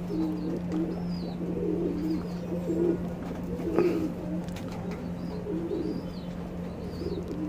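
Pigeons, Nagina Tambral birds, cooing in a loft: repeated soft throaty coos in overlapping bursts over a steady low electrical hum, with occasional faint chirps and no talking.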